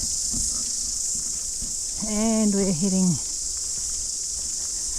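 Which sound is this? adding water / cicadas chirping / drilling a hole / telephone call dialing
cicadas chirping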